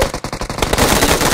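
Rapid bursts of automatic gunfire in PUBG Mobile, loud and close, a fast rattling stream that grows denser and continuous.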